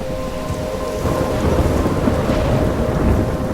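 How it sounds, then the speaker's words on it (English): Thunderstorm in the video game Life Is Strange, a loud continuous roar of heavy rain with deep rumbling thunder swelling slightly partway through, steady and enveloping with no voices. "I'm trapped in a storm?"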